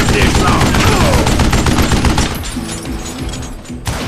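Gunfire in a Western shooter, Gunslinger: loud rapid volleys of bullets crackle densely, then ease into a lower rumble with scattered shots near the end.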